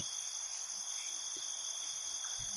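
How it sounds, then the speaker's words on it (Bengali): Crickets trill continuously in a hilly forest at dusk, a steady, high, shimmering drone that stays even and fairly faint from start to finish, with a few soft low knocks underneath. "ঝিঝির ডাক জড়িয়ে ধরছে গোটা পাহাড়ি জঙ্গলটাকে"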